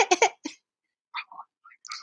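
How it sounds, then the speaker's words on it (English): A few short throat-clearing grunts close by, separated by brief silences, with small breathy vocal sounds near the end. "I keep clearing my throat."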